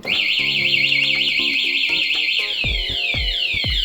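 A loud anti-theft alarm fitted to a 2023 Drone four-valve wails continuously, cycling rapidly up and down in pitch, with a few dull low thumps near the end.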